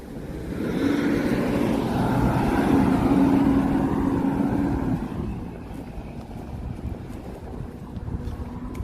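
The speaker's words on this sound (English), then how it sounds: "Why does this tiny ass SUV sound like a fucking semi truck?" A small SUV in a driving video game with a deep, heavy engine drone like a semi truck, loud and steady at first, then easing off and fading to a quieter rumble in the second half, with no one talking.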